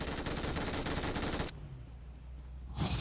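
Sustained automatic gunfire in the battle royale game PUBG Mobile rattles densely for about a second and a half, then cuts out to a quieter lull before a brief burst returns at the end.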